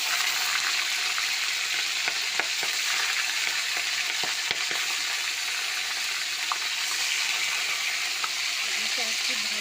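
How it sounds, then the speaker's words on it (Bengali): Tangra fish sizzle in hot mustard oil with a constant, loud crackling hiss, dotted with sharp little pops and spatters, near and steady throughout. "তেলটা গরম হয়ে গেছে এবার মাছগুলো ছাড়ব আর এই মাছটা প্রচুর ফাটলো"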